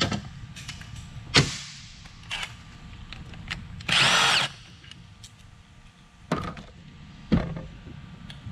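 A power tool spins off a bolt from a Honda Prelude H/F series transmission in a short close whirring burst, surrounded by quieter clinks and taps of the work.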